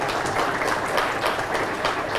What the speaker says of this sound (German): Einen kräftigen Applaus.